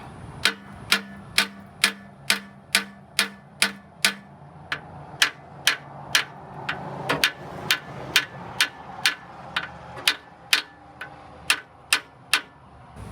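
Sharp metallic taps ring out in a steady rhythm, roughly two per second, as a small hammer strikes the valve rocker arms of an engine in a 1953 Peterbilt truck, parked 40 years, close by.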